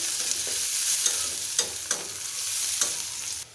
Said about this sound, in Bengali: দিয়ে দিলাম পেঁয়াজ কুচি পেঁয়াজটাকে ব্রাউন কালার করে